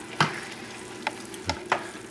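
Risotto with spinach and mushroom stirred in a pan, a few distinct scraping strokes over a soft, steady sizzle, close and with no voices.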